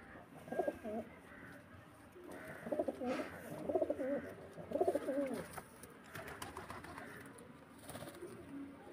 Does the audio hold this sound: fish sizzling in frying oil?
no